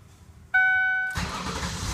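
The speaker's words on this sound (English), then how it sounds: "There we go. Car starts now." A 2006 Ford Taurus with an anti-theft fault cranks with a whining starter, then the engine catches and settles into a loud, steady idle nearby.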